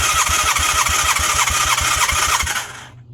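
The starter of a Honda Hondamatic 400 motorcycle, unrun for over 20 years, cranks the engine with a steady, rapid, rhythmic churning that is loud and close, then winds down and stops after about three seconds.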